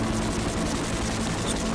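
A helicopter in the video game Broken Sword: The Smoking Mirror gives a steady, loud rotor drone with a low rhythmic thrum, continuous throughout and free of talk.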